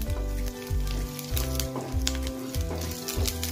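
Masala for Mangalore-style mutton curry sizzles in a pan, a loud close hiss with repeated spatula scrapes and a low background hum rising and dropping in short cycles.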